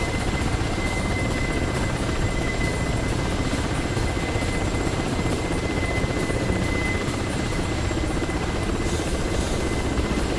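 A Ka-50 helicopter in the DCS World flight simulator drones with a steady, loud rotor buzz and engine whine throughout, continuous and unbroken, with no talk.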